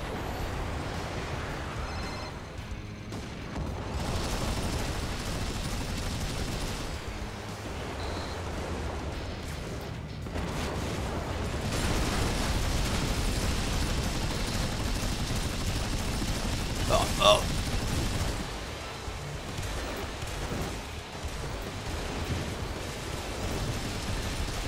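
Rocket launcher, plasma gun and Gatling guns firing in the Strike Vector EX aerial combat video game, a dense, continuous barrage of shots and blasts running throughout, with a louder burst near the middle.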